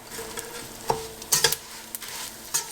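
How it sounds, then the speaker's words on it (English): Desiccated coconut toasting in a pan while being stirred for methi pak, a soft sizzle under scattered scrapes and clinks of the spoon against the pan, close and with no talking. "I'm going to add the desiccated coconut in here so that toasts up as well"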